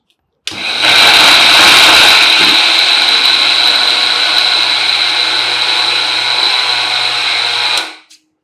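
An electric mixer grinder whirs loudly and close while grinding laddu mixture, starting abruptly, holding a steady high-pitched motor whine for about seven seconds, then spinning down.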